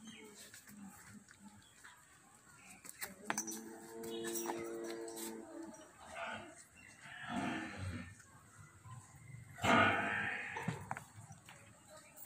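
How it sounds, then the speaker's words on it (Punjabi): A freshly calved water buffalo on a rural Punjab farm lets out several loud, drawn-out lows with gaps between, set against quieter farmyard background and faint stray noises. "ਇਹ ਆਪਣੀ ਮੱਝ ਤਾਜ਼ੀ ਸੂਈ ਹੋਈ ਹੈ, ਇਹ ਇਹਦਾ ਛੋਟਾ ਜਿਹਾ ਕੱਟਾ"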